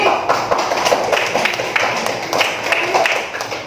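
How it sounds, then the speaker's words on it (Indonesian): A school class gives a round of applause for class 6D, many small hands clapping densely and steadily for a few seconds, close and fairly loud. "Tepuk tangan untuk kelas 6D"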